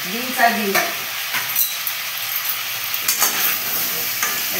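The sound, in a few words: stirring chicken stew with carrots and onions in a pot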